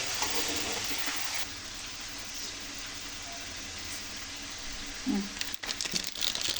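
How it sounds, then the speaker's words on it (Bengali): Spices tipped into hot oil for biryani sizzle and fry in a steady, close hiss, with a brief clatter of stirring near the end. "ওই তেলের মধ্যে আমরা মশলাটা দিয়ে দিলাম"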